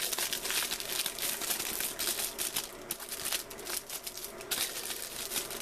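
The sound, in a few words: unpacking a keyboard case from its plastic packaging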